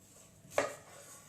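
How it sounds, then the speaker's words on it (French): One sharp knife cut through apple on a board in a home kitchen while making an apple cake, a lone crisp chop standing out from a quiet room. "coupe les pommes"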